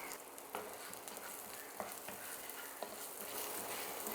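Broccoli salad ingredients sizzle in a pan while being stirred, a steady quiet frying crackle broken by a few soft scraping clicks from the utensil.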